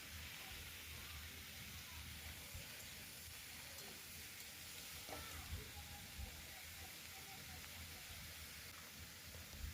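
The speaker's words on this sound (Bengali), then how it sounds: "সবজিগুলোকে এবার ওই তেলে দিয়ে দেবো" Vegetables sautéing in hot oil after paneer is lifted out: a steady, quiet sizzle and hiss throughout, with faint occasional clinks.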